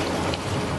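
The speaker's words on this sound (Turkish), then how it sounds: "Gün ağarınca İstanbul'da şiddetli rüzgar yerini sağanağa bıraktı." A heavy rain downpour during a storm in Istanbul makes a brief, loud, dense hiss of rain striking surfaces, steady throughout, with no voices.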